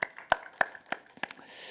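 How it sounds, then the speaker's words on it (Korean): A few separate hand claps from a church congregation during a Friday night prayer meeting, evenly spaced and fairly quiet, about six sharp claps in under two seconds with no talking. "감사와 찬양의 박수를 같이 돌립시다"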